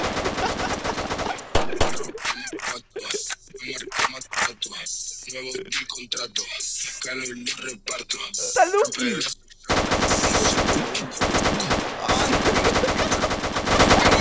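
Gunfire from a Roblox video game, bursts of rapid automatic shots crackling in repeated volleys, loud and dense, with a voice talking over parts of it.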